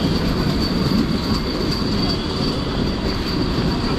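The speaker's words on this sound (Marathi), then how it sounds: "आता आम्ही आहे ना ट्रेनमध्ये बसलो आहे ए सी ट्रेन पकडलं आहे" AC suburban train running near Charni Road in Mumbai, with a steady loud rumble of wheels and carriage noise throughout, no voices.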